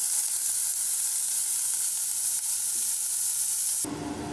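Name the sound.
onion and green chillies frying in oil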